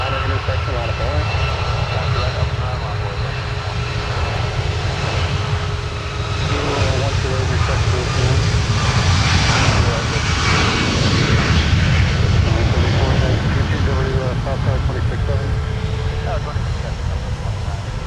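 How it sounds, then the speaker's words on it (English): An Icelandair airliner rolls down the full length of the runway and takes off, its engines roaring loud and steady throughout, with a voice talking over the din. "Full length for Icelandair getting airborne"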